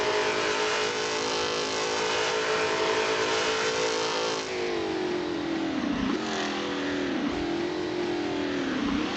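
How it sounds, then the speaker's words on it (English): Onboard sound of a Mercedes race car at a Le Mans exhibition event: a loud, steady engine roar that holds high and then dips and climbs again through gear changes and throttle lifts, with no talking. "That is a very loud car inside."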